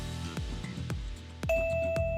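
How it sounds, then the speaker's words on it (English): A school bell in a video game chimes as a run of struck, ringing tones that overlap, ending in a steady sustained ring. It is loud and plays alone without voices. "Bell rings."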